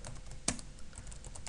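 Keys clack softly on a computer keyboard as JavaScript code is typed, a short close burst of light taps with one sharper keystroke; no voices.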